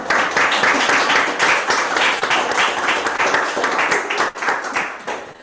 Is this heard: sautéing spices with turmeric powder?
no